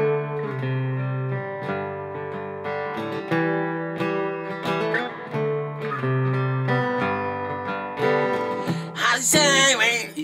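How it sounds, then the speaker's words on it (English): Guitar riff from a song, played at full speed, with clear plucked notes in a steady melodic pattern, close up and alone, ending in a brighter strum. "it has a cool-ass guitar riff"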